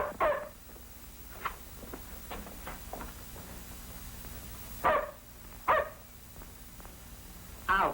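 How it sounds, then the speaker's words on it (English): A dog barks in sharp bursts, a few loud ones and several fainter ones, with a steady low hum underneath and no talk. "But you can't let him bark."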